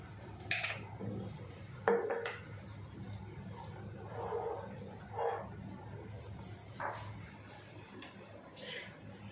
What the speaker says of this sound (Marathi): आता हे एका बरणीमध्ये चांगलं भरून ठेवायचं